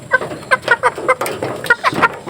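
Two tame pet chickens cluck in a quick run of short, close calls, several in a row with brief pauses.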